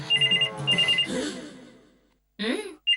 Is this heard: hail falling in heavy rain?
no